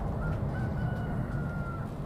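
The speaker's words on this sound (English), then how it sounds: "When I start hearing that rooster, it means that we're getting to the end of the night." A rooster crows faintly and far off in one long drawn-out call, nearly buried under a steady low rumble of background noise at night on La Palma during the volcanic eruption.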